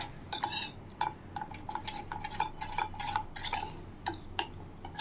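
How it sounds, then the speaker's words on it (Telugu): A spoon stirs custard powder into milk in a bowl, giving rapid repeated clinks and scraping taps against the sides, close-up and steady, no talk. "ఒక స్పూన్ కస్టర్డ్ పౌడర్ తీసుకుని దీంట్లో పాలను వేసి ఉండలు లేకుండా కలిపేసుకుందాం"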